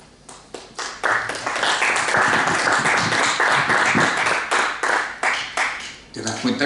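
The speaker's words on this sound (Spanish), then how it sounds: "Solo aplauden a Marta." Audience claps for Marta at a book presentation for Memorias del Derrumbe, starting as scattered claps, swelling into steady dense applause from a nearby crowd, then thinning back to a few individual claps.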